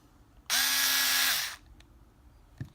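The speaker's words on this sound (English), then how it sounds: "Meterk cordless screwdriver or a drill." A Meterk cordless screwdriver drill whirs up to speed and runs steadily for about a second, then winds down and stops, heard up close and loud with a faint click afterward.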